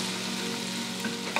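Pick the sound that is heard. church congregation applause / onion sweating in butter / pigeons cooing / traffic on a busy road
onion sweating in butter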